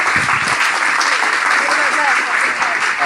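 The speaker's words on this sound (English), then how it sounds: "let's give one more applause for the lovely Ash Sarkar" An audience gives loud, steady applause for a guest on a live talk show, a dense roar of clapping close by with a brief voice at the start.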